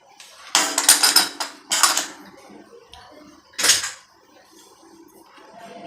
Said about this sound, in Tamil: அதனால நான் இலையில தான் போட்டு தட்டி தட்டி போட போகிறேன்